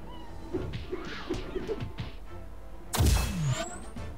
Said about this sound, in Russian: О, кошачья драка, суперка, ребята.